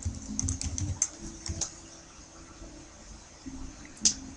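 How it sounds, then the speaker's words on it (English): Typing on a computer keyboard, a loose run of quick, light key clicks at close range, followed by a quieter pause and a few more scattered taps. "just type in the same thing"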